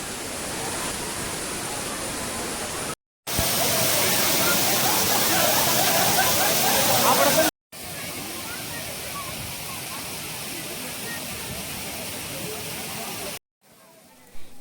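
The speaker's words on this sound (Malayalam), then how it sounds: "മഴക്കാലം ആയതുകൊണ്ട് തന്നെ വെള്ളച്ചാട്ടം അത്രയും മനോഹരമായിട്ടാണ് കാണാൻ കഴിയുന്നത്." A monsoon waterfall in Idukki district thunders in a continuous broad roar, loud and near, with short gaps where it cuts out briefly before resuming.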